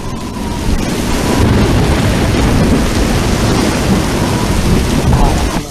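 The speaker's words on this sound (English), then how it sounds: "This is a storm he created for the Tempest in our small theater." Theatrical storm effect built for a small-theater production of The Tempest: a dense, loud, continuous roar of rain and rumbling thunder with windy wash, steady throughout with no break.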